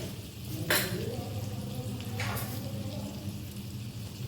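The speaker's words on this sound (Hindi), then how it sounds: "अब ये तकरीबन 3 चम्मच के करीब मैंने बटर लिया। इसको मेल्ट करेंगे" About three spoonfuls of butter melting in a pan for white sauce pasta, a soft steady sizzle with a couple of brief utensil clinks against the pan.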